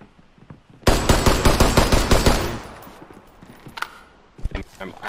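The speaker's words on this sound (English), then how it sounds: "I'm getting shot at." A first-person shooter game plays a burst of rapid automatic gunfire, loud and sharp for about a second and a half, then fades into scattered distant shots, with voices on team chat.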